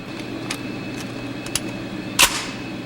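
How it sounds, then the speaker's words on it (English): An 8-round clip being loaded into a WWII American Army rifle: a few sharp metallic clicks spaced out, then a louder snapping clack near the end, close and clear over a faint steady hum. "The rounds are loaded here. This is an 8-round clip."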